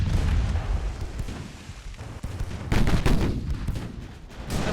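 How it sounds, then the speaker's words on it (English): Warship secondary and main guns fire in the naval battle game Ultimate Admiral Dreadnoughts. Booming volleys and rattling shots overlap in a dense, continuous barrage with a heavier burst near the end. "The secondaries are firing. There's the guns."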